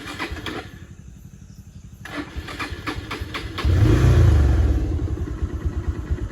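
A motorcycle engine is being started with some difficulty. Steady mechanical chugging and clicking lead into a louder rumbling catch as it fires, then a rough, pulsing idle continues close by, with no voices.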